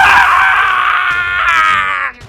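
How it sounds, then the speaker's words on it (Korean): A man lets out a loud, sustained scream of pain during torture, one long raw cry that holds steady and then breaks off abruptly, alone and close. "놈은 정신을 차리자마자 추악한 비명을 질러댔다."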